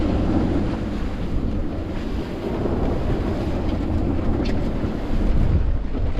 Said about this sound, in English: the wind's starting to calm now